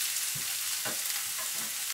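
Sliced peppers stirred in a pan over medium heat, a soft steady sizzle with a few brief scraping strokes of the spoon, close and alone.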